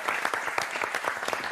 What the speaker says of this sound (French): Je voudrais qu'on applaudisse Tom Dingler.